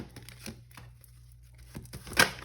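Tarot cards being pulled from a box or pack, giving soft papery rustles and crinkles with a sharper tearing-like scrape near the end, close and fairly quiet.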